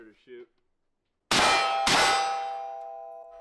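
A sharp metallic clang of a suppressed short rifle shot hitting a steel target rings out, followed almost immediately by a second strike, both leaving a long ringing tail that slowly fades. Brief distant voice precedes it.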